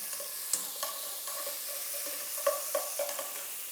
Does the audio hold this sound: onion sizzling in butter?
yes